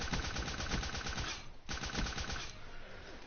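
Rapid automatic gunfire from Call of Duty Black Ops 3 multiplayer rattles in dense, evenly spaced bursts, with a brief pause midway before firing resumes.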